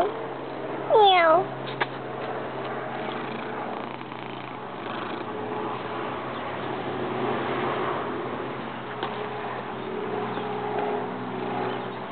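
A red cat gives a short, rising meow near the start, then stays quiet against a steady low background hum for the rest of the clip.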